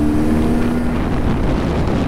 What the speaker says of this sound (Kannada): Super bike first time ride ಮಾಡ್ತಿದ್ದೇನೆ.